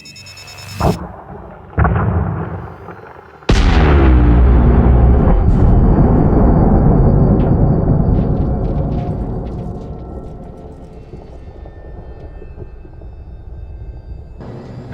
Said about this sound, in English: But let's detonate it now. Detonation in 10 seconds.